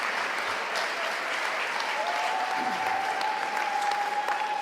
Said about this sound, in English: A big applause for Congressman Rangel.